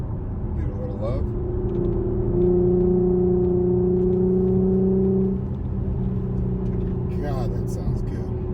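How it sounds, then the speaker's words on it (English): Infiniti Q50 with a VQ 3.7 engine and Invidia Gemini exhaust, steady engine drone with a quick rev blip on a downshift near the middle, then a sharp blip near the end, close and loud. "Just a little blip on the downshift. Riding out fourth gear."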